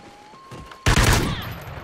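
Sudden loud burst of gunfire from a burst-fire rifle in the video game Call of Duty: Ghosts, a dense volley of close shots following a quieter stretch of faint background game noise.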